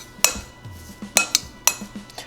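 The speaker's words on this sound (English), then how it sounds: "I'm actually going to use a spoon. We're going to mix this little mixture together." A spoon stirs and knocks against a bowl of garlic butter mixture for garlic knots, with several sharp clinks and scrapes spaced irregularly, close by, and no talking.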